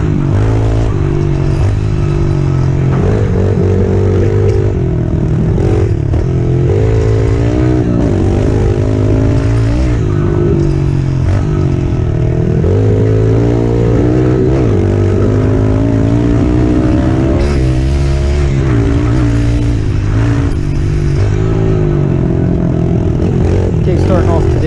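Yamaha TTR110 dirt bike engine droning steadily while being ridden, loud and continuous with wind buffeting and slight shifts in pitch throughout, close to the rider.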